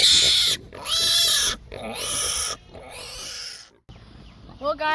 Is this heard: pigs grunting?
yes